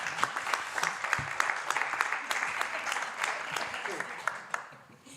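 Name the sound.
applause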